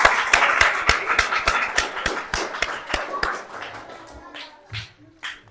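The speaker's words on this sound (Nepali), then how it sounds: "हामी जोरदार तालीले स्वागत गर्छौँ" Hand claps at a Baptist church Christmas celebration in Kakarvitta, Nepal, ring out as a steady run of sharp, evenly spaced claps, loud at first and then thinning into a few scattered claps.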